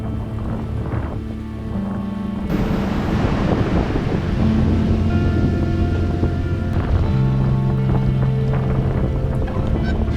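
A solo sailboat runs for days at sea on a long passage toward Darwin. Steady wind buffeting and rushing water fill the clip, with sustained low tones running underneath.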